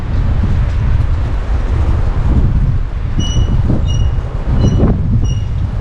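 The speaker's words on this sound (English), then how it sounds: "you can really hear the wind howling" Wind roars down an empty street in Bar Harbor, Maine, on a December day, a loud, continuous buffeting rush with rising gusts and a thin, faint whistle above it.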